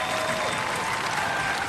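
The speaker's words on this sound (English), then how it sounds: "Give him a round of applause!" A studio audience at a Robot Wars heat bursts into dense applause, loud and close, a brief continuous wash of clapping with faint cheering mixed in.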